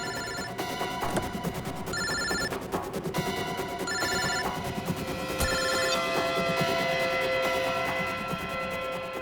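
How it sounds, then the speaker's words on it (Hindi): A mobile phone rings repeatedly in a steady electronic pattern, somewhat muffled from inside a car, over a constant background hum. "सर फोन तो गाड़ी में बज रहा है।"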